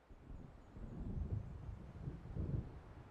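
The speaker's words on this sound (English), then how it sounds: "It seems there's a storm coming." Distant thunder of an approaching storm in the video game Alan Wake Remastered, faint low rumbles rolling in two swells over soft wind-like background noise.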